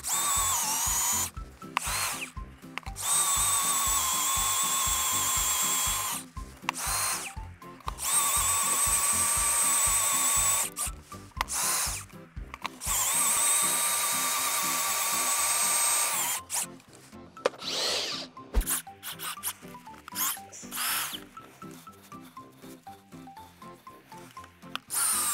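A power earth auger grinds into sticky, clinging soil in loud, sustained bursts with short pauses between them, the motor whining steadily while the bit churns through the earth.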